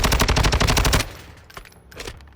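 Rapid automatic bursts from the HCR 5.6 light machine gun, an AUG-style weapon with a drum magazine, in the video game Modern Warfare II; a loud, fast string of shots for about a second, then a few sparse, fainter reports.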